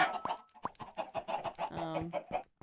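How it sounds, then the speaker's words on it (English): Flock of chickens in the Minecraft video game clucking over and over in quick, overlapping bursts, fairly close and steady throughout, with a few sharper squawks mixed in and no talking. "This is a lot of chickens."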